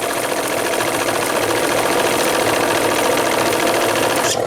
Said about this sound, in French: Donc la machine gentiment fonctionne.